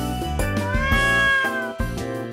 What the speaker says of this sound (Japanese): 猫が近寄ってきたが。